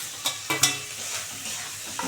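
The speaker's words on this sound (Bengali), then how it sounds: "এটাকে আর একটু ভালো করে সুন্দর করে ভাজবো" Carrot, potato and onion sizzle in a pan as tomato and coriander leaves are added. A brief, moderately loud crackle runs throughout, with a few sharp taps and scrapes of a spoon stirring.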